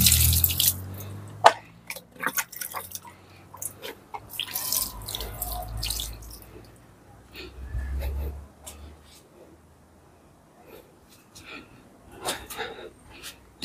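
Water trickling and dripping onto soil in potted flowering plants at home, intermittent splashes and drips close by, with someone talking quietly over parts of it.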